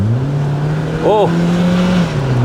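A cheap £500 JDM car pulls away under acceleration, its engine a loud, steady drone that climbs slightly in pitch. Briefly, a voice exclaims over the engine.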